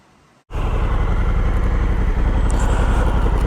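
A Honda Africa Twin motorcycle engine cuts in abruptly after a brief quiet and runs loud and close, with a steady throbbing rumble held to the end.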